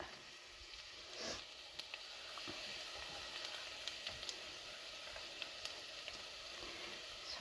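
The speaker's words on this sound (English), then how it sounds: "once those shallots have browned a little bit, you can add in your garlic" Garlic added to browned shallots sizzles steadily in a pan, a soft continuous hiss with a few faint clicks of a utensil, fairly quiet and with no talking.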